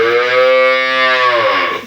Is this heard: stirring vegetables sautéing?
no